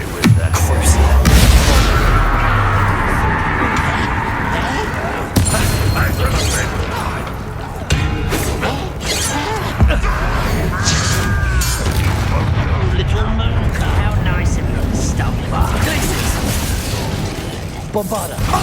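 Bombarda and Confringo spell explosions in the video game Hogwarts Legacy, loud booming bursts and crackling blasts layered with mechanical clatter and combat effects, recurring across the clip over continuous game noise.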